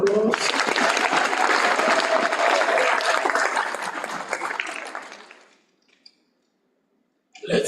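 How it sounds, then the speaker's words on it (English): Audience applause at a graduation ceremony for a spring diploma session: sustained dense clapping from a large crowd for about five seconds, fading out, then a short gap before clapping resumes. "Let's give them a round of applause."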